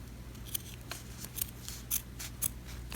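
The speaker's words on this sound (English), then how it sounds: "I'm going to cut this piece off." Dull scissors cut through lace with a series of crisp, close snips at an uneven rhythm, over a faint steady background hum.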